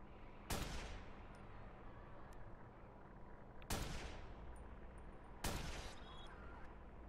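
Three sharp, faint gunshots in the Watch Dogs video game, evenly spaced several seconds apart. Each crack has a ringing tail over a low ambient hum, and no one talks.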